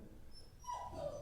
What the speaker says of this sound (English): Oh, that was the dog then.